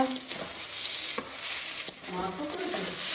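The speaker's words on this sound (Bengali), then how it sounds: "বেগুন কেটে দিয়েছিল সেটা ফ্রাই হচ্ছে" Eggplant sizzles steadily in a hot pan, with occasional scrapes and stirring knocks from a spatula, close and continuous.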